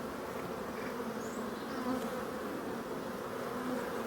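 Honeybees foraging on a sunny mid-October day fill the air with a dense, continuous buzz of many insects flying near the hive, steady and fairly loud, with no voices.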